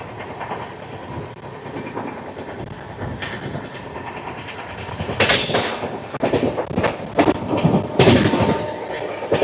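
Rayalaseema Superfast Express, train 12794 running Nizamabad to Tirupati, rumbles steadily on the rails, with a run of sharp clacks and rattles growing louder in the second half as the coaches pass over joints.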